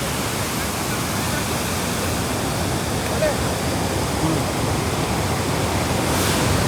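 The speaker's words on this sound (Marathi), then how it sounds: "भरपूर मोठा धबधबा आहे." A large roaring waterfall at a hidden forest spot, giving a steady, dense, loud rush of falling water that fills the whole clip without a break.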